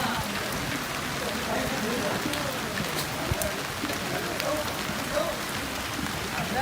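Steady rain pours on a Bangladesh village during the rainy season, a dense even hiss of drops on leaves and surfaces with scattered nearer patters and no break.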